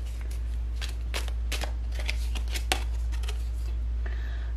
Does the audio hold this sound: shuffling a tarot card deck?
yes